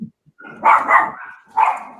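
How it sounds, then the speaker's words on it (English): A pet dog gives a few short, close barks with a whimpering edge, in two quick bursts followed by one more, with no talk over them. "Whose doggy is that?"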